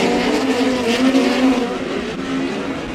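Midget race cars roar around the dirt oval at Airport Raceway in a POWRi West Midget League race, a dense, steady engine drone from a distance with no clear single pass-by.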